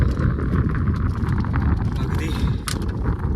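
Strong wind buffets the microphone on a hill fort trek at Salher Fort, a steady loud low roar that persists throughout with no break.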